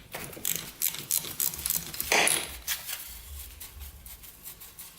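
A hand ratchet works loose an NGK BR8ES spark plug on a Yamaha Blaster ATV, giving quick, close, uneven runs of metallic clicks with a few brief pauses and metal clinks.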